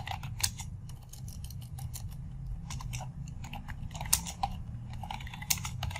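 Typing on a computer keyboard while working in Microsoft Excel, with steady rapid clicking keystrokes close up, continuing for several seconds without speech.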